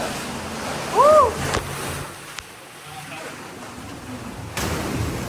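Sea waves surge through a narrow passage into a coastal cave near Tayrona park in Colombia, a hollow washing rumble with a louder swell early and another later, under intermittent talk.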